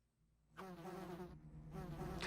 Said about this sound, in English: God, these giant bees!